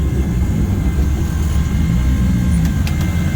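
A manual car's engine pulls away in first gear with a loud, steady low rumble that holds close and constant, with a faint whine riding above it.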